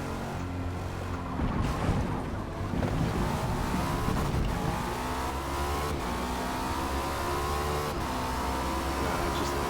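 Cadillac V-Series.R race car braking in Forza Motorsport, a steady loud engine roar with tonal whine that drops in pitch as the car slows, continuous and close with no talking.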